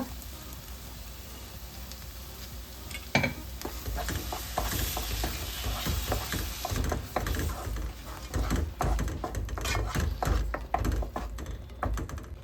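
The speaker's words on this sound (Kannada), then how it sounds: "ಇವಾಗ ಇದಕ್ಕೆ ಟೊಮೊಟೊ ರುಬ್ಬಿಟ್ಟಿದ್ವಲ್ಲ, ಟೊಮೊಟೊ ಪ್ಯೂರಿ ಹಾಕ್ಕೊಳ್ಳೋಣ" Tomato puree going into a pan of frying masala for chenna aloo masala, a soft wet sizzle with stirring and scraping clatter building after a sharp splat, steady and close with no talk.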